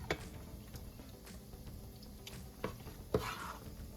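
Leftover taco soup is stirred into seasoned packaged rice, giving a quiet, close scraping and swishing with a few sharp clinks of a utensil against the dish.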